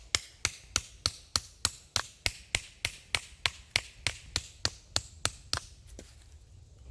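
A hammer with a grooved face strikes the back of a knife blade about twenty times in an even, rapid rhythm, each blow a sharp close metallic-wooden knock, with no talking.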